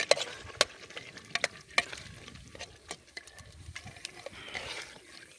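Masala spices roasting in a pan during village-style outdoor cooking, with a soft sizzle and a spoon scraping and clicking against the metal in irregular strokes, close and fairly quiet.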